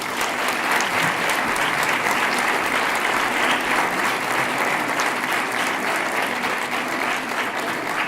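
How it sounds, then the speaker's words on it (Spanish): A hall audience at the official Holy Week proclamation in Jódar applauds steadily, dense clapping holding at a constant loud level throughout. "Un fuerte aplauso, por favor."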